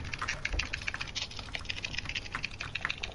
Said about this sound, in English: Frantic typing.